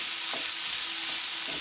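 Chopped onions for posole cooking in a pan, with a steady soft sizzle and hiss and a couple of faint stirring scrapes, no voices.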